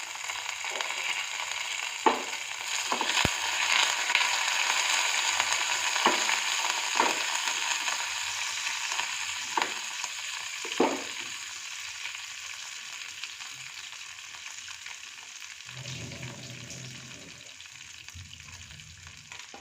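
Dried red chilli and curry leaves tempering in hot oil and ghee with cumin, mustard seeds, cashews and peanuts, a loud continuous crackling sizzle with sharp pops, easing off toward the end, no voices.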